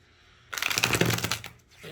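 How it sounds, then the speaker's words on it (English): A deck of Ethereal Visions Luna Edition tarot cards is riffled in one quick, crisp burst of flapping card noise lasting about a second, close up against a quiet room. "I can sit here and shuffle these cards all day because they're just so easy to shuffle."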